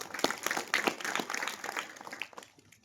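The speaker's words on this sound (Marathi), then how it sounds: "स्वतःसाठी एक जोरदार टाळ्या वाजूया" Audience at a Chhatrapati Shivaji Maharaj birth anniversary lecture in a village claps together in a dense burst of applause that stays steady, then thins out and fades over the last half second.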